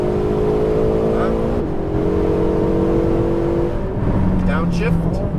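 A Ferrari 488 GTB engine drives on a race track, loud revving with rising pitch that drops at gear changes and a downshift near the end, under an instructor's coaching voice.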